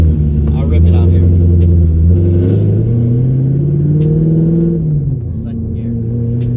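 A cammed V8 Camaro engine with a choppy, lumpy idle revs up and rises in pitch as it accelerates hard, close and loud throughout.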